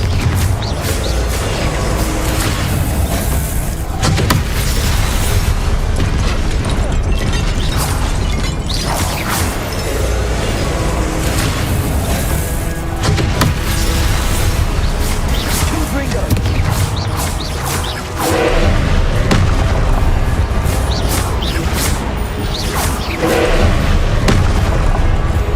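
Confringo fire-spell explosions in the game Hogwarts Legacy: repeated booming blasts and crashes over a constant loud wash of game music and effects, with a person talking over the action.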